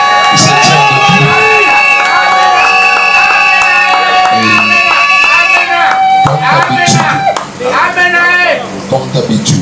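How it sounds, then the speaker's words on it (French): Congregation at a Congolese church wedding loudly cheering and acclaiming, with crowd shouts, whoops and clapping layered over a sustained music backdrop, staying loud throughout before briefly dipping near the end. "Et l'assistance acclame le Seigneur."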